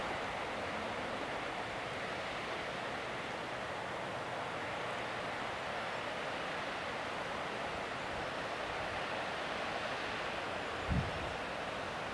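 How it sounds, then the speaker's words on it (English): A steady, broadband rush of a waterfall heard from a distance in the Tauber Valley below Rothenburg, Germany, constant and unbroken throughout, with a brief low thump near the end. "there appears to be a bit of a waterfall down there"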